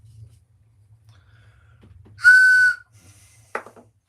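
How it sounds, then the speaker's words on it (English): A handmade carved wooden whistle gives one clear, bright, sustained blast of about half a second against a quiet background, followed by a brief click. "Here's my whistles that I make."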